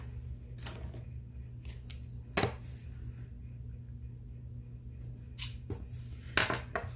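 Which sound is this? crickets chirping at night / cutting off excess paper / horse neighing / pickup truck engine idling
cutting off excess paper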